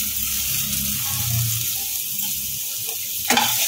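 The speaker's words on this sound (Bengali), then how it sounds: "তেল গরম হয়ে গেছে, এর মধ্যে দিয়ে দেবো 7 চামচ মতো কুচানো রসুন" Chopped garlic frying in hot refined oil for a chicken tomato pasta gives a steady, close, hissing sizzle, with low soft clatter underneath and one sharper scrape of a utensil against the pan near the end.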